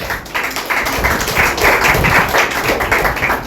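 Audience applause for a school team at a science and maths quiz final, a dense, steady patter of many hands clapping throughout, fairly loud and close, with no voices over it.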